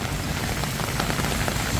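Heavy monsoon-season rain pours onto a street in Bangkok's Sukhumvit Soi 13, a dense, steady hiss of drops hitting pavement that stays close and loud throughout, with no voices.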